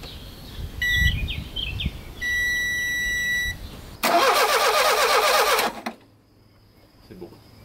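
An Alfa 33 engine under restoration cranks and catches, preceded by dashboard warning beeps and a steady chime, then a loud starter whir that fires briefly before cutting out abruptly into quiet.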